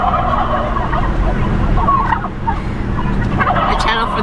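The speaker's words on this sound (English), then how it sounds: "It's the turkeys." A flock of turkeys gobbling in repeated bursts over a steady low rumble of a car interior, the calls fairly close and overlapping.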